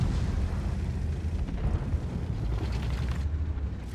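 An enemy shell hits a tank's gun in World of Tanks, followed by a heavy, rumbling explosive roar with a deep low end that stays loud and churning for about four seconds.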